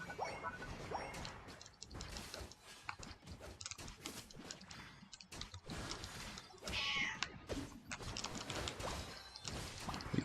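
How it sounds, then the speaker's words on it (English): A house cat meows nearby, its short cries rising over a busy mix of Pokemon Unite game sounds and clicks, most clearly around the middle of the stretch. "Don't know why my cat is meowing."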